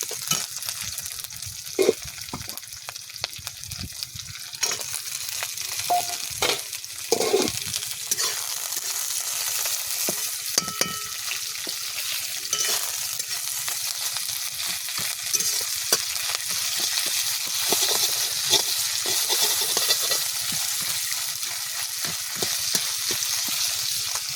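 Fried rohu fish head and green chillies sizzle loudly in a pan for a long stretch, with repeated scraping stirs and spatula clicks over a continuous close hiss.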